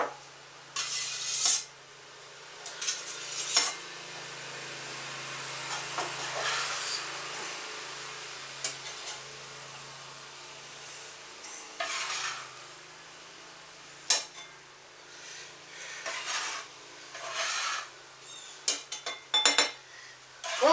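Scraper working potato and leek soup out of a bowl, with intermittent scraping and clinking strokes at close range, separated by quiet pauses.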